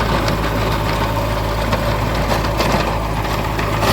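A Kubota tractor runs with a 3-foot rotavator working between sugarcane rows, its engine a continuous low, rumbling drone at a steady, fairly loud level.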